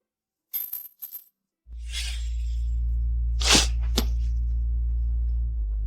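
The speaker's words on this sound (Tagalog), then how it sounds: "kapag hindi ka makapagdesisyon, pwede kang gumamit ng paghagis ng barya" A coin flipped into the air: two quick metallic rings, then a steady low hum with a couple of sharp clinks as it lands, close and clear with no talking.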